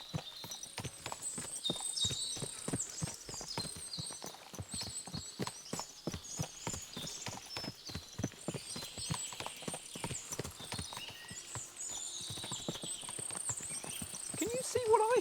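Many horses' hooves clip-clop in a dense, continuous rhythm in a medieval video game, with a horse neighing near the end.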